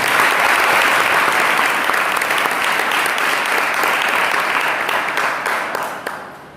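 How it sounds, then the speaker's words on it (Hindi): An audience at a church holiday-Bible-school inauguration gives a guest a sustained round of applause, loud and even at first, then thinning and fading out over the last second or so. "हम इस समय उनके लिए तालियां बजाकर स्वागत।"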